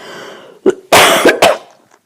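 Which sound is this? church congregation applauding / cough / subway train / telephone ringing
cough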